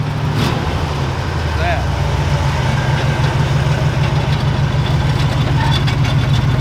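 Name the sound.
1969 Ford F250 engine idling high with stuck choke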